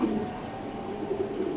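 A pigeon gives a brief low cooing call close by, a soft throaty murmur against a steady background hum, with no talk.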